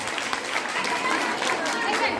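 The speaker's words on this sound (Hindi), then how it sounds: "जोरदार तालियां बादल सर के लिए।" An audience at a live stage show bursts into applause for Badal sir, a dense continuous clapping with crowd chatter mixed in, loud and sustained from start to finish.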